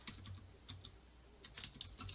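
Quiet, close typing on a computer keyboard, scattered clicks in short uneven bursts with no voice.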